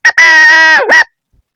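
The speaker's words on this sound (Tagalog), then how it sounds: "susubukan natin kung magtunog tilaok na ito, tunog tandang" A loud, close, blown rooster-crow call sounds twice: a short toot, then a long buzzy honk that dips in pitch before rising again, sounding more goose-like than rooster.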